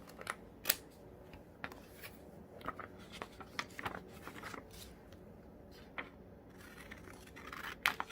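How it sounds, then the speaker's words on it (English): Scissors cut through paper or card in a quiet room, giving a string of sharp, faint snips and rustles spaced irregularly over several seconds. "I'm just gonna cut that off."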